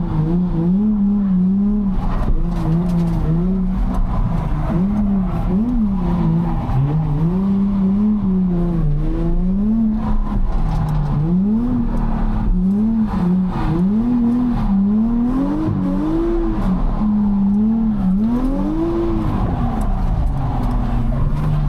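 Drift car on near-zero tyre pressure at a UK drifting competition, tyres squealing in loud sustained wavering howls over a continuous engine roar, close and unbroken throughout.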